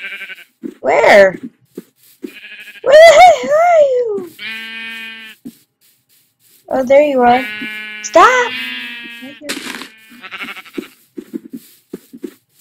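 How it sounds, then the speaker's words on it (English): Repeated sheep bleats in the video game Minecraft, loud and close, come in bursts separated by brief silences, with a player talking in between. "Shut up, sheep. You're so annoying,"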